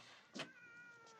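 A cat lets out a short, faint meow under a low steady background hum in a prison scene from the 1978 film Midnight Express, with a second softer cry near the end.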